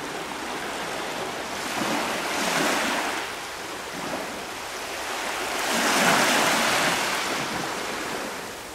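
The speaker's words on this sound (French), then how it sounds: "Le bruit des vagues, c'est très agréable." Ocean waves on a Corsican shore roll in and wash up in two slow swells, a broad rushing roar rising and fading, with some wind.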